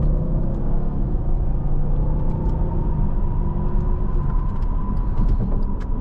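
A 2017 Mercedes-Benz CLS 550 with its V8 engine while driving, giving a steady, loud low rumble of engine and road noise that holds evenly throughout, with no one speaking.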